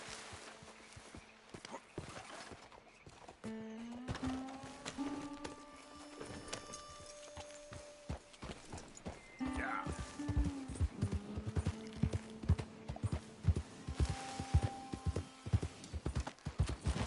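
In Red Dead Redemption 2, horse hooves clip-clop in a steady walking rhythm, close and fairly quiet, with tonal game music or sounds drifting over them.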